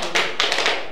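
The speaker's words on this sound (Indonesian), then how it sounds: "Tepuk tangan untuk kita semua." A short burst of hand claps, a few sharp pats over about a second, close and fairly loud with no voices.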